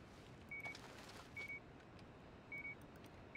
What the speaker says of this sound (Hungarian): Már csipog is, hallom.